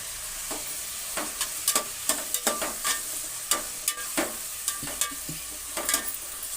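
Coriander leaves sizzle in hot oil tempering for avalakki uppittu, with a soft frying hiss under repeated sharp stirring scrapes and clicks of a spoon in the pan, irregularly spaced and close.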